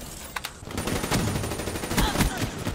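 Automatic gunfire in Call of Duty Black Ops 3, a dense, loud burst of rapid shots filling most of the moment, with a voice briefly heard in the mix.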